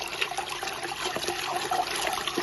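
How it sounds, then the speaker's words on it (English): A SHYSKY 24VDC 86W DC50E-24150A speed-adjustable pump pushes water through its outlet, producing a steady gushing, splashing flow that holds at an even level throughout, with no voices. "Our pump works by the high-speed rotation or impeller to push or throw the water inflow out of the cavity, out of the outlet"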